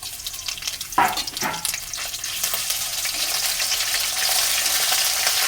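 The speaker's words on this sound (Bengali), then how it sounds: "বন্ধুরা আমার পেঁয়াজগুলো লাল হয়ে গেছে এখন আমি আদা রসুন বাটাটা দিয়ে দেবো" Ginger-garlic paste is dropped into onions browned with dried and green chillies, making a sharp splash-like burst followed by a frying sizzle that grows steadily louder and fuller, close and with no voices.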